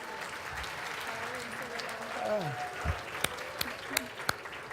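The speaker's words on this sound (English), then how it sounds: "Put your hands together for Cal Ramsey." Gala audience applause builds into a burst of clapping with a few sharp claps standing out, while a host's amplified voice speaks over it.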